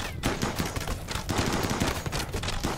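Bows firing in the RimWorld video game during a colony battle, a dense, continuous stream of sharp shots and impacts layered over one another at steady loudness, with no talk.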